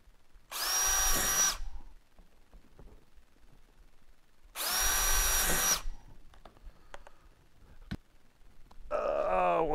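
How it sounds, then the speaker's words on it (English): Two loud bursts of a power drill boring through plastic, each lasting about a second and a half, separated by quiet handling noises and a light tap. "I'll drill some holes in the plastic piece first"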